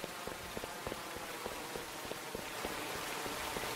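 Waterfall in a video game, a soft continuous splashing rush broken by small scattered droplet-like ticks, fairly faint and steady, with no voices.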